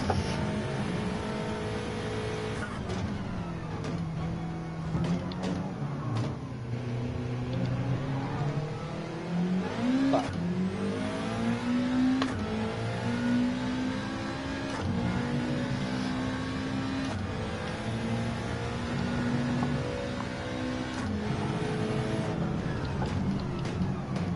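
A race car engine in a Le Mans video game revs and climbs through the gears, its pitch rising and falling again and again with upshifts and throttle lifts. The engine is loud and continuous throughout, close to the listener, with no talk over it.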